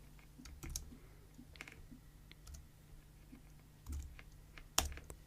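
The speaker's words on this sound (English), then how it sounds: "Just typing in 9/4 and hitting enter." Keys on a computer keyboard clack in a quiet, irregular series of close clicks, with a firmer tap near the end like an enter key, in a quiet room.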